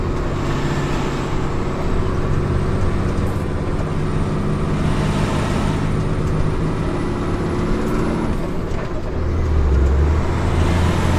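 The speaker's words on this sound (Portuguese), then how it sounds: "O caminhão automático é bom, né?" An automatic truck drives along a narrow, bumpy road full of ditches, its engine droning steadily from inside the cab with rattles and jolts, then the engine note deepens near the end.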